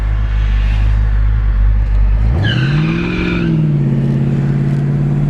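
A 1970 Dodge Coronet 500 convertible engine runs loudly and steadily up close, then the pitch rises and falls once in a brief rev before settling back into a smooth idle.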